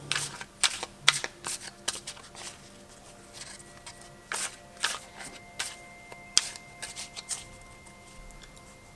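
Thoth tarot card deck being shuffled by hand, a series of crisp riffling bursts and soft card slaps at close range, irregular and alone with no talking.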